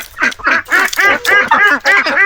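A chicken and Muscovy duck hybrid gives a rapid run of about eight raspy, nasal quacks, close and loud with brief gaps, and no other sound around it.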